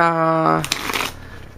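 A voice speaks briefly, then cards riffle in a short, crisp flutter close by.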